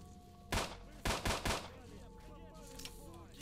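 Pistol gunfire in the video game S.T.A.L.K.E.R.: Shadow of Chernobyl, about four sharp shots, one alone and then a quick cluster of three, over a low ambient game background.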